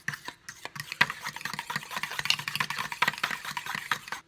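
Seasoning and lime juice are stirred into a dish with quick, uneven scraping and clinking of a utensil against the bowl, close and busy with no talk.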